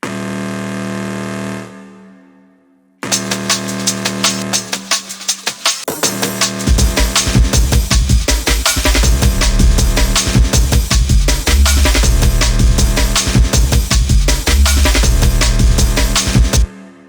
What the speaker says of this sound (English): The second MS-20 sound I created is this kind of rave alarm sound.